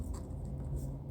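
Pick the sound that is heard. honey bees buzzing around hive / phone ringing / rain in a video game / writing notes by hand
writing notes by hand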